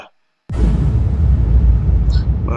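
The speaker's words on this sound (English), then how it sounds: "Sound like those nice explosion sounds that give your videos and your podcast that cinematic feel to it." A cinematic explosion sound effect erupts suddenly after a moment of silence into a loud, deep rumbling boom that sustains and rolls on, with a faint whooshing tail near the end. It is close, heavy and bass-rich, with no talking.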